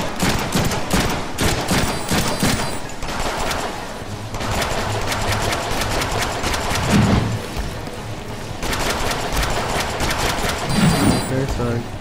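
Sustained automatic gunfire from the Deadpool video game rattles almost nonstop, loud, rapid bursts broken by short gaps, with a low game hum and occasional thuds underneath.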